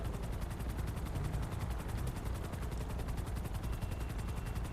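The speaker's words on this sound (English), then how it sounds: "I hear a helicopter." A helicopter in GTA 5 thrums steadily with a fast rotor chop, loud and continuous throughout, with no voices over it.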